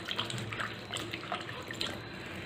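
Sliced sweet potato chips are rinsed by hand in a vessel of water, with close, uneven splashing and sloshing and light drips, and no voices.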